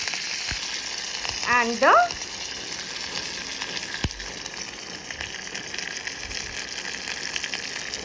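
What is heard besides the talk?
curry leaves, red chili and crushed garlic frying in oil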